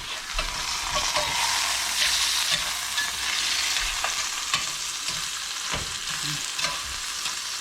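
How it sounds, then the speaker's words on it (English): Sausage sizzles loudly as it browns in a skillet for a Cajun sausage and rice dish, a steady close crackle with occasional stirring scrapes and pops throughout, no voices. "The sausage is browning."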